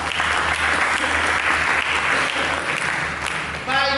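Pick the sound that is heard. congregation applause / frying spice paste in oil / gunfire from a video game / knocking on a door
congregation applause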